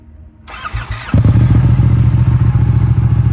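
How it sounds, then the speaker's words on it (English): A Ducati V-twin motorcycle engine with stock muffler cranks and fires up, settling into a loud, steady, lumpy idle with a muffled exhaust note. "This is a stock muffler, and it sounds pretty good for a stock."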